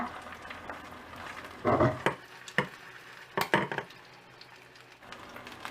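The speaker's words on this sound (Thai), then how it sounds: "เราก็จะทอดด้วยไฟกลางแบบนี้ไปเรื่อยๆนะคะ จนกว่าแป้งด้านล่างเนี่ย จะเหลืองกรอบดีค่ะ" Batter for a Thai crispy oyster pancake fries over medium heat, giving a steady crackling sizzle with a few louder clatters of a utensil against the pan.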